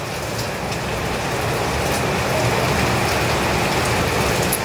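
Steady, heavy rain from Typhoon Kristine pours down in an unbroken dense hiss, loud and even throughout with no voices.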